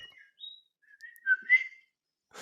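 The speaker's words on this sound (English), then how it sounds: "Did you hear the bird?" Bird whistling in short, clear, high rising and falling notes, a few brief phrases close by in otherwise quiet surroundings, with no voices over it.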